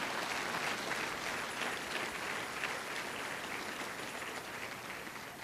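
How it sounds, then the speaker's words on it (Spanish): Congregation applause during a church service, a fairly soft, continuous wash of clapping from many people that holds steady and eases slightly toward the end. "Dale un fuerte aplauso a Él en esta mañana."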